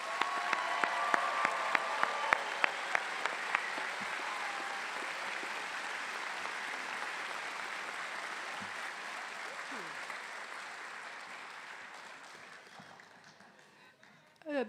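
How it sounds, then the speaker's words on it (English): At a college of public health commencement, a large crowd applauds graduating master's and PhD students with sustained, dense clapping and a few sharp whoops early on, gradually fading toward the end. "Let's give our graduating master's and PhD students another round of applause."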